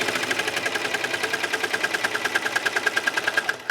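Serger (overlock machine) stitching a flat-felled seam in fabric, the fabric running against a plastic edge guide: rapid, even mechanical chattering at a steady fast rhythm, close and clear, stopping abruptly at the end.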